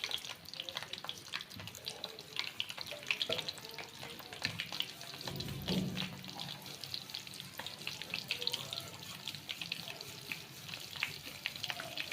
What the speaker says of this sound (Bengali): এখন আমরা এগুলো সব ভেজে নিব